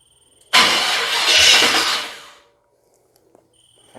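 The engine of a 1979 Chevy square body truck cranks on a weak battery in one loud, close burst of about two seconds that fades away, followed by a few faint clicks.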